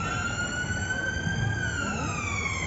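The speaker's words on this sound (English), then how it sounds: "Hearing a siren cadence is always different. I'm digging these. They're nice. That's a cool ambulance." A bright gold or yellow ambulance sounds its siren, a loud wailing tone that sweeps slowly and steadily with upper harmonics, close by, over low rumbling traffic noise, with no speech.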